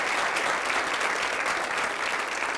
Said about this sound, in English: deserves a round of applause from everybody